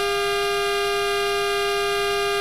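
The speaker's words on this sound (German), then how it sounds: "Hupe" A DB class 423 electric train's horn in Train Simulator sounds as a steady, sustained tone with strong harmonics, held evenly for the whole stretch with no talking.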